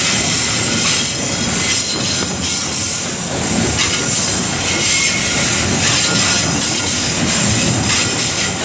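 A heavy coal freight train rolls past up close in Indonesia, a loud continuous rumble and rattle of wagons with metallic wheel squeal and rhythmic clacking throughout.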